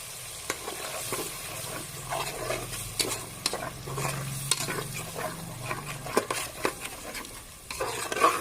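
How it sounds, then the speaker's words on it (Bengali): Ground ginger, garlic, cumin, nut and green chili paste frying in oil for a chicken roast, with steady close sizzling broken by frequent scraping stirs and clinks of a spoon against the pan, no talking. "এই মশলাটা তেলের সাথে ভেজে নিলাম।"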